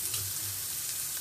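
Marinated prawns frying in a pan for a spicy prawn masala, a steady, close hiss of sizzling oil with soft bubbling underneath, alone and unbroken.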